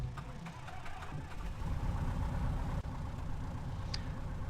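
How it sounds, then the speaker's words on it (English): Simulated single-engine light aircraft in a flight training game, engine cranking up and then settling into a steady low, rough idle rumble throughout, close and continuous, with a brief dip near the end. "let's start the engine and go flying."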